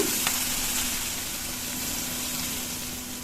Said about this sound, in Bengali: এক চা চামচ আদা বাটা এক চা চামচ রসুন বাটা তেলের সাথে পেঁয়াজের সাথে একটু বেজে নিলে কাঁচা গন্ধটা থাকে না